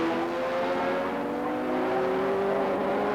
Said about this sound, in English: the 3 Hondas now come down into the braking area